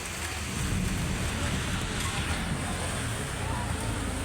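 Afternoon rain falls steadily, a dense even hiss of drops on surfaces close by with a low rumble underneath, unbroken throughout.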